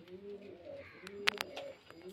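Pigeons coo in low, throaty rolling calls nearby, with a couple of brief sharp clicks or flutters in the middle.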